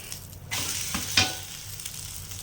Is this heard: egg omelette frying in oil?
yes